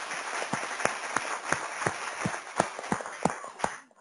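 Audience applause after a talk at an annual meeting, a steady wash of many hands with a few sharp, distinct claps standing out, fading at the end.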